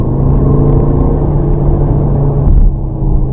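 A 2019 Skoda Kodiaq RS with a 240 hp bi-turbo 2.0 TDI engine running in sport mode: a loud, steady low rumble with a deep droning tone from inside the car, no talk.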